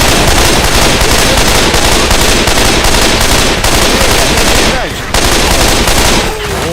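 Loud, rapid automatic gunfire from the Left 4 Dead 2 video game rattles almost continuously, with a brief break partway through before the shooting resumes.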